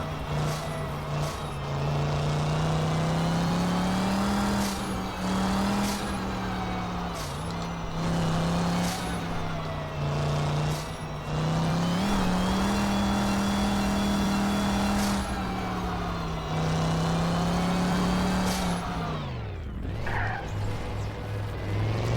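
A sofa-shaped racer in the video game Garry's Mod, its engine droning loud and close with a steady hum that rises and dips as the gas is tapped, then winds down sharply near the end.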